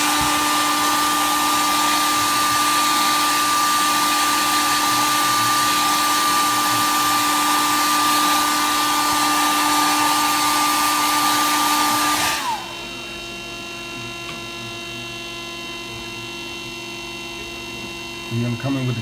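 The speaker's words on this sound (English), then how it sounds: "we're going to hit the dryer a little bit. You want it to be really dry" A hair dryer blows steadily over layers of wet paint, a loud continuous whoosh with a tonal whine that runs for about twelve seconds and then cuts off, leaving quiet room tone.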